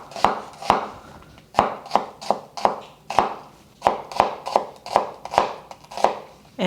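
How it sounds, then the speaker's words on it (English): A knife slices a very small onion top to bottom on a cutting board in a close, crisp series of about a dozen and a half chops at an uneven, steady pace, with no talking. "I have 1 very small onion that I'm just going to slice"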